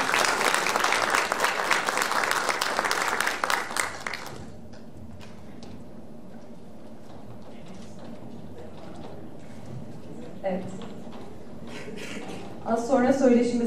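An audience at a panel talk on women electrical engineers bursts into lively applause that stops abruptly after about four seconds. Quiet room noise and scattered footsteps follow, with brief voices near the end.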